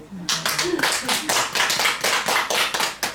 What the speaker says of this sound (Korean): 박수 안 치세요?